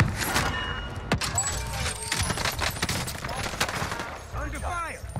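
Rapid gunfire in Call of Duty Warzone on Rebirth Island, a dense volley of sharp shots and clattering bursts at close range, with brief voice chatter and game announcer sounds mixed in.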